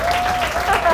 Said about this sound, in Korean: 이 첫 친구의 부담을 좀 줄여줄 수 있도록 박수 부탁합니다.